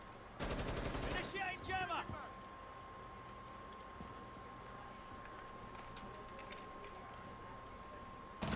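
A sharp burst of rapid gunshots crackles in an esports shooter match, lasting about a second, followed by a few softer shots and a quiet stretch with a faint steady tone.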